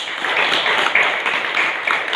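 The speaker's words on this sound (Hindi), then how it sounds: "उनके लिए भी जोरदार तालियों की गुजारिश" Steady, close applause from a crowd at a Bhagavad Gita group gathering, dense clapping holding at an even level for a couple of seconds.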